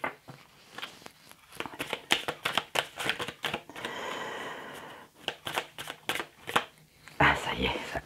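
Tarot cards being shuffled by hand for a live reading, a close, repeated riffle of papery slaps and flutters in quick bursts, with someone talking over parts of it.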